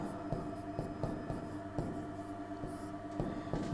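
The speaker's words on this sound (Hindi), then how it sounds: "तो यहां पे लिख देता हूं मैं" Handwriting on a board or paper during a basic Hindi-language math lesson on remainders and division, a steady scratchy stroke sound with short taps of the writing tool, close by and alone with no talk.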